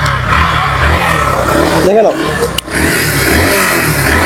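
A used 2022 motorcycle's engine revs at a secondhand bike dealer, a steady mid-pitched drone that rises and dips, with someone talking over it close by.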